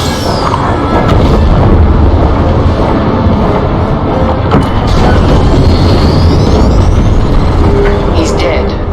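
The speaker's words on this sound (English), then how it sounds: "The frigate is about to explode." A frigate blows apart in Star Wars Squadrons, a loud continuous booming roar over engine rumble with scattered crackles and sweeping whines, while a voice briefly speaks.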